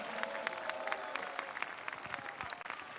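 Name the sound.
congregation clapping and applause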